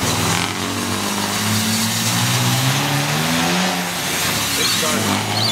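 A car engine revs loud and close, a rough steady roar with rising and falling pitch, and people talking over it.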